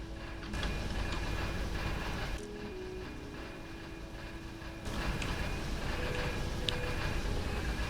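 A train rolls along rails in the game Factorio, a steady mechanical rumble that drops briefly and then swells back up, with faint clicking over the noise.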